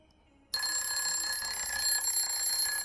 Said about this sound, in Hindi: टाइमर हो गया पूरा।